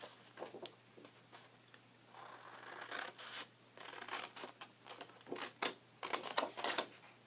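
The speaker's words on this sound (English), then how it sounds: "we are going to cut down this score mark here on this end and across" Scissors cutting cardstock for a gift box along a score mark, giving a series of short, close scratchy snips that come in bursts and grow denser toward the end, with no talking.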